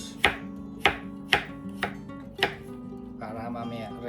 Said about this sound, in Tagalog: Slice na natin yung mga carrots